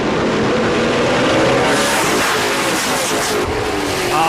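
A Dodge race truck racing at Riverside International Speedway, engine held high in the revs as a loud, continuous, sustained roar with no break.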